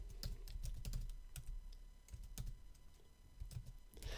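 Rapid typing on a computer keyboard, quiet but steady clusters of key clicks with brief pauses, heard alone without talk.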